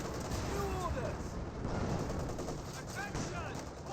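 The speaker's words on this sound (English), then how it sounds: "Vickers firing away." Vickers machine gun fire from a Company of Heroes 2 battle rattles in dense, rapid bursts amid other gunfire and battle noise, steady and fairly faint, with a voice talking over it.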